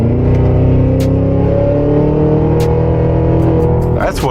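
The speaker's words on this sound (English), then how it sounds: "listen to that exhaust" A 682-horsepower luxury SUV's exhaust rumbles loud and close in a steady, deep drone, then swells into a sharp rev right at the end.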